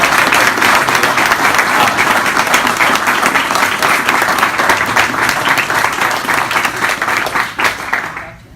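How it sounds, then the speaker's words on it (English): Sustained applause from a conference crowd at the New York Stock Exchange, loud and dense clapping holding steady for several seconds before tapering off at the end. "You can give them a round of applause."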